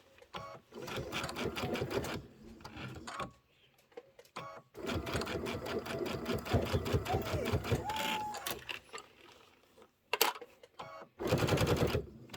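Embroidery machine stitching out a Kimberbell Sweet Land of Liberty pillow, a busy rapid mechanical needle chatter running in long bursts with short pauses between sections, loud and close, with brief talk at times.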